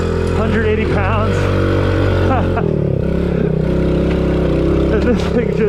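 A cheap TEMU dirt bike engine running while ridden by a heavy adult rider, a loud, steady mid-pitched drone with wavering revs and a slight dip partway through.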